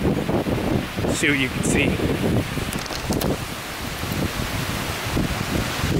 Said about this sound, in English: Here we got a squall. Wind is gusting